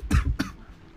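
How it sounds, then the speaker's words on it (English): Two quick, close coughs in succession come from a person while laughing, followed by a short quiet tail. "whenever I laugh, I cough"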